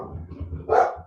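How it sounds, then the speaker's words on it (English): A single short bark from a dog nearby rises briefly over a low background murmur. "there's the dog"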